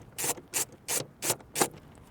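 A small flat-bladed screwdriver works at the cap over a Torx T30 screw on a MINI Cooper pedal, giving five close, evenly spaced scraping rubs, with no talk.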